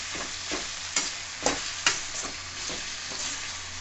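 Chutney ingredients sautéing in a pan for kara chutney, a continuous frying hiss broken by several sharp spatula scrapes and knocks at an irregular rhythm, close and moderately loud with no talking.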